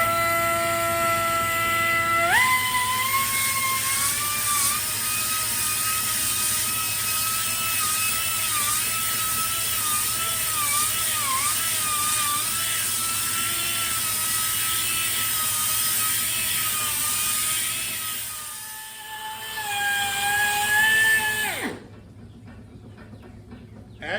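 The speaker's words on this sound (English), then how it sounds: "So I'm going to go ahead and polish this and we'll see what happens." Polishing a life-size stone bas relief angel carving with a power tool produces a loud, steady whining motor tone with a faint rise in pitch, running continuously before winding down and stopping near the end.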